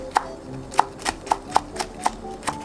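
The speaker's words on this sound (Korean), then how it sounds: "청양고추 두 개는 잘게 썰어줍니다." Two Cheongyang chili peppers are finely chopped with a knife on a cutting board, giving about eight crisp, evenly spaced taps that ring close and clear against a quiet background.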